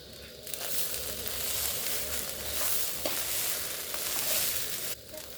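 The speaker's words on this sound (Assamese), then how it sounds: "আৰু এতিয়া মই পোলাও চাউলখিনি মিনিমাম 2 পৰা 3 মিনিট টাইম ফ্ৰাই কৰি ল'ম।" Pulao rice fries and is stirred in a pan, a steady close sizzle broken by scraping stirs and small crackles, with no speech.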